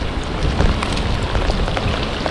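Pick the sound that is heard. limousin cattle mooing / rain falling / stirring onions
rain falling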